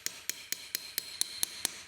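A carbide hammer gently taps a piece of hardened steel to straighten a bend while making a screwdriver: about nine crisp, bright, evenly spaced metallic taps, close and alone.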